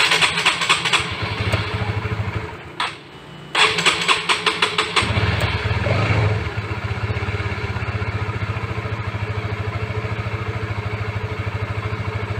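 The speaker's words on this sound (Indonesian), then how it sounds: "Kita nyalakan mesinnya." A fuel-injected motorcycle engine cranks briefly, stutters, then catches and settles into a steady, close idle during a fuel pump pressure check while being serviced.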